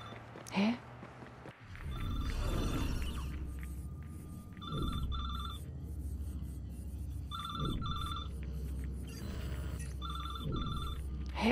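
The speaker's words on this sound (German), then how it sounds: "Irgendwo klingelt was." A telephone rings inside the video game Watch Dogs 2, with bright repeated ring bursts about every two and a half seconds over a low, steady ambient rumble and faint background game sounds.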